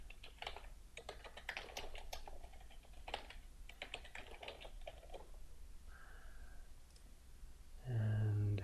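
A username and password are typed on a computer keyboard while a Cimplicity project is set up, with quick bursts of close key clicks and short pauses between them and no talking.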